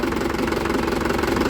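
Motorcycle engine running steadily at close range, a continuous low throbbing idle with a slight knocking pulse and no pauses.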